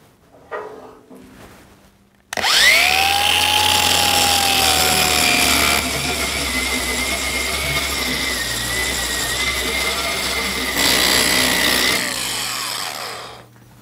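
A 20-volt DeWalt mini grinder spins up with a sharp whine and then grinds paint off metal on a chain grab hook project for a Kubota B2601 loader, giving a steady loud rasping drone that lasts about ten seconds before winding down.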